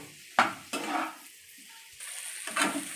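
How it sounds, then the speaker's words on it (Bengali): Okra, potato and fish roe fry in a pan over a raised flame, with a steady soft sizzle broken by a few sharp scraping stirs of a spatula against the pan. "এইভাবে 5 মিনিট আরও আমি ভেজে নেব।"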